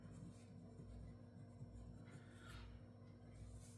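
Fountain pen nib scratching steadily across copy paper, laying down green shimmer ink, with a soft continuous scratchy rub over a low background hum and no talking.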